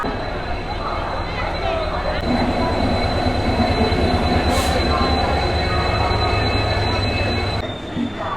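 The Howrah–Puri superfast train stands at a railway platform, with a loud, steady rumble of the train, a sustained metallic squeal and a sharp hiss, and voices talking over it.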